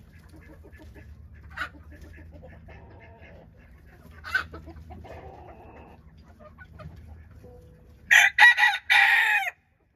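Bengal chickens on a farm: soft clucking and scattered calls build to a loud, close rooster crow near the end, following two brief, sharper calls earlier.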